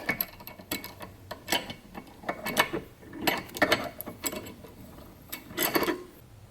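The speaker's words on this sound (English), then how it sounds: "I'll just tighten this up until it pushes the inside in there" An inexpensive flaring tool being cranked tight on a Fox Body Mustang brake line, giving a string of irregular metallic clicks and creaks in short bursts, close and moderately loud.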